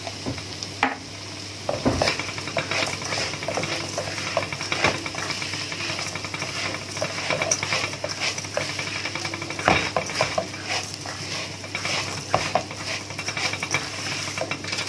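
Okra stirring and frying in oil for an Egyptian okra, rice and meat dish, a loud continuous sizzle with repeated scraping and clinks of a utensil against the pot, heard alone.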